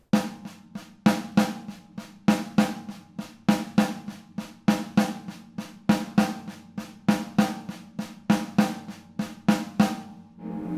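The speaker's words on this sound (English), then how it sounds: "what I would like to do is you accent the bass drum part with your hands" A drummer plays a bass drum pattern accented in unison with the hands, steady rhythmic hits repeating evenly for about ten seconds, close and clear with no talking.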